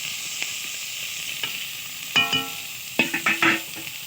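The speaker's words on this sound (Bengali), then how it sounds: "পেঁয়াজটা ততক্ষণ একটু ভাজা হোক।" Onion frying in a pan, a soft steady sizzle with a few clinks and scrapes of a utensil against metal, close and fairly quiet, no voices.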